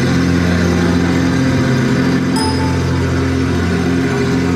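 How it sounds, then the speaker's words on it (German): A loud, steady simulated Junkers L5 aircraft engine drone from a Junkers W33 flight simulator, with a constant low hum, unchanging in pitch, heard alone without any voices. "Der einprogrammierte Ton stammt also wirklich von einem L5-Motor"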